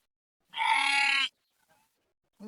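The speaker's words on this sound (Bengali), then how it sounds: "ভেড়ার ডাক শোনান" A single sheep bleats close by on a river sandbank farm, one sustained call of under a second, followed by near silence and a faint thump at the end.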